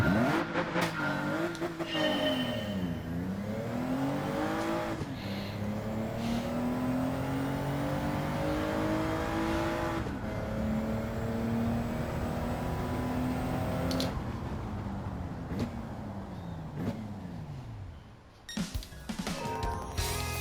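A car engine in the racing video game Gran Turismo 7 revs and sweeps up and down through gear changes, a steady loud drone with rising and falling pitch, then cuts out briefly near the end before resuming.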